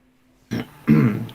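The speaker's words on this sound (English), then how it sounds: "I was clearing my throat" A man clears his throat twice, a short rasp followed by a louder, longer one, close to the microphone in a quiet room.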